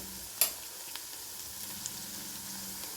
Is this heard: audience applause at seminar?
no